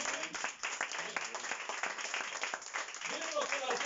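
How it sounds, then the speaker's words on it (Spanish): A church congregation claps together for the Lord during a Spanish-language sermon, a steady patter of hands mixed with voices. "Dale un aplauso más fuerte al Señor."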